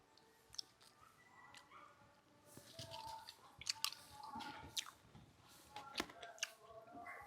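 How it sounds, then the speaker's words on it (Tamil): Crisp, close bites into Vietnam jackfruit bulbs, followed by wet chewing and crunching in irregular bursts against a quiet background. "நம்ம சாப்பிடும்போதே உங்களுக்கு சத்தம் கேட்கும், அந்த கடிக்கிற சத்தம் அந்தளவு ஒரு கிறிஸ்பியாக இருக்குது."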